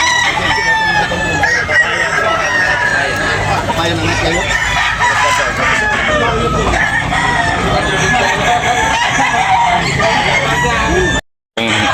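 Many gamecocks crow loudly and continuously at a gamecock market in Tabunok, overlapping calls filling the air amid a busy crowd with people talking, nearly unbroken except for one brief dropout.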